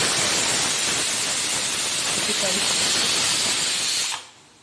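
Steam hissing steadily and loudly from a covered pot steaming dhokla in a home kitchen, a continuous close rushing hiss that cuts off abruptly near the end.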